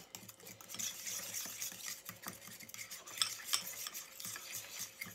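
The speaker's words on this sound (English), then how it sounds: "take a fork and mix it" A fork whisks batter for zucchini mini muffins in a bowl, with quick, quiet clinking and scraping strokes in a steady rhythm, fairly faint and alone.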